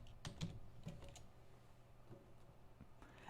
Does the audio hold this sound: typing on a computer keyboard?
yes